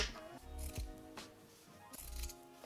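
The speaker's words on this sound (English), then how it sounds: "So I'm actually just going to cut these seams off." Scissors snip through the seams of a pair of pants, giving a few close, crisp cuts spaced apart in a quiet room.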